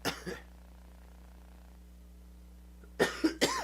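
A person coughs at close range, once at the start and then in a quick cluster of harsh coughs after a stretch of quiet background hum.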